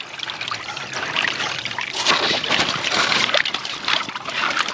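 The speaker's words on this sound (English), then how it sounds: "Look at the water running through there" Water trickling and splashing through a yard drain pipe, an irregular gurgling flow heard up close without speech.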